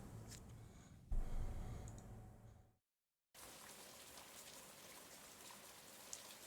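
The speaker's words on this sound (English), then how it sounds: "as the rain starts to build up above you" Steady rain falls in a soft continuous patter, breaking briefly into silence before the hiss resumes, with no clear thunder rumble.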